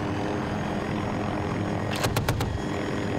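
In a Battlefield 2042 match, a chopper's engine and rotors produce a steady, dense whir and roar throughout, with a quick burst of four sharp gunshot-like cracks near the end.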